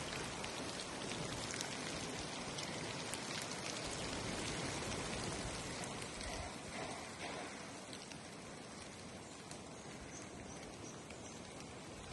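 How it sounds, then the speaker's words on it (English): Steady rain falls in a dense, even hiss of drops pattering on surfaces, continuous and unbroken for the whole stretch, with no voices. "it's been raining all morning pretty much"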